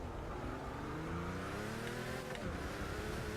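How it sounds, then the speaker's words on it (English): Race cars accelerating in Forza 6 during a Le Mans race, loud overlapping engines whining upward through the gears with a pitch drop as one car passes, steady and close. "Faster car coming through."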